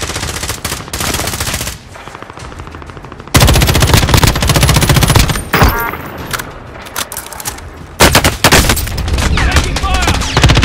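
Dense automatic gunfire rattles in Call of Duty: Modern Warfare's Plunder mode, loud sustained bursts with brief pauses and sharp shots, game voices calling out beneath.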